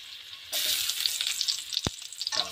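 Onion drops into a hot pan and bursts into a loud, crackling sizzle that carries on steadily, with one sharp knock partway through.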